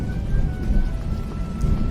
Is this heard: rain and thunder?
yes